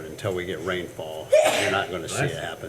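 A single sharp sneeze bursts out in the middle of a parks and recreation board meeting, loud and close, between stretches of a man's speech.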